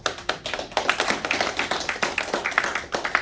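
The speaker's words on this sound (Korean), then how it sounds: "박수 한번 부탁드립니다" An audience at a lecture claps briskly and rhythmically, close and fairly loud, with dense overlapping hand claps forming a steady pulse throughout.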